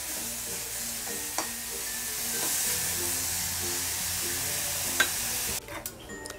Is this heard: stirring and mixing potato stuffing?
yes